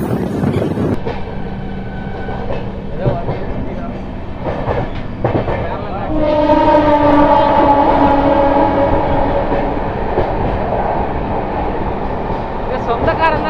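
The Patna LTT express train rushes past close by, a loud rising roar with rattling wheels and a sustained horn-like tone, voices faint beneath.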